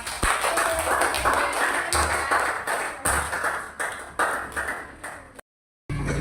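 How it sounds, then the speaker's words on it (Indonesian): A group claps together in a classroom, a few seconds of rhythmic, fairly loud applause that stops abruptly into silence. "tepuk tangan untuk kelompok 4"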